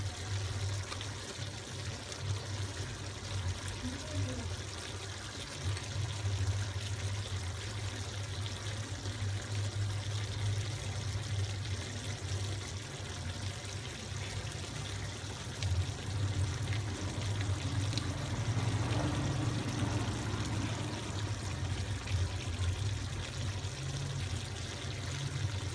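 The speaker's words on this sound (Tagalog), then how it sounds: "pwede natin ilagay ang Del Monte Quick and Easy Mechado sauce" Del Monte Quick and Easy Mechado sauce pours into a pot of cooked meat, potatoes and carrots, a soft steady liquid trickle and splash with low kitchen hum, fairly faint throughout.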